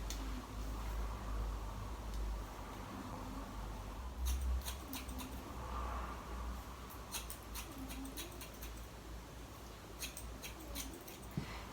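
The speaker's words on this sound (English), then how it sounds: "I'm going to use my thinning scissors for that." Thinning scissors snipping through hair during a haircut, giving soft repeated metallic clicks in small bursts over a steady low background hum, fairly faint and close.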